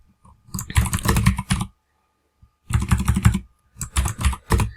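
Rapid keystrokes on a computer keyboard, typing out product text in bursts, close and clear, with pauses between runs of typing and no speech.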